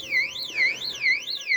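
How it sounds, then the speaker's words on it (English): An electronic alarm wails in a rising and falling siren tone, sweeping up and down about four times, loud and close with nothing else over it. "Let me get away from my alarm before I end up going over and smacking it."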